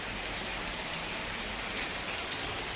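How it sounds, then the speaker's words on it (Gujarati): Steady rain falling outside during a power cut on a cool day, a close, even hiss of drops on surfaces that holds constant throughout with no other sounds. "વરસાદ બી બહુ મસ્ત આવે"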